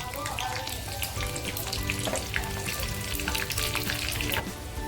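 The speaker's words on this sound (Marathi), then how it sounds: "फोडणी बघा किती छान झालेली आहे" Garlic with green and red chillies sizzling in hot tempering oil for palak paneer, a dense continuous crackle and spit with busy popping throughout.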